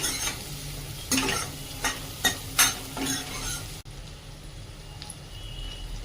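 Finely chopped onion and garlic sauté with asafoetida in a hot pan, a steady sizzle broken by several distinct scraping strokes of a spatula, then a quieter fry, no voices.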